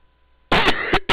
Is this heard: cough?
yes